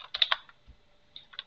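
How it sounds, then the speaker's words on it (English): Several quick clicks of typing on a computer keyboard while searching for a file name, a short burst of keystrokes followed by a pause and two more isolated taps, close and fairly quiet. "I will search for this file by typing in name and"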